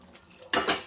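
Potatoes tipped into a pot of cooking meat land in one loud, close burst of clattering and sizzling that follows a quiet stretch and fades over about half a second, with no talking.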